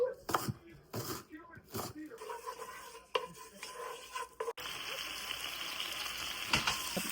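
A dull kitchen knife chops onion on a board in a few uneven knocks and scrapes, fairly faint, with clattering and sizzling in the background as the sound turns into a steady hiss.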